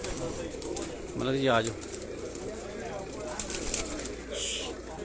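A Shahjor pigeon coos once in a brief rolling phrase on a rooftop in Sialkot, against outdoor background noise, with someone speaking around it.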